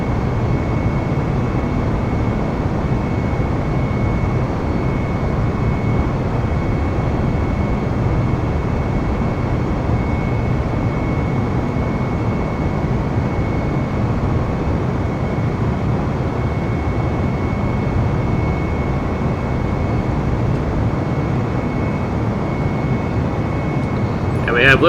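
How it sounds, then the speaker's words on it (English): An Airbus airliner in Microsoft Flight Simulator roars steadily at full throttle on its takeoff run, a loud continuous broadband engine rumble with a faint high whine, holding even throughout. "Let's go ahead and apply full throttle and head on out from the UP and head over to Minneapolis"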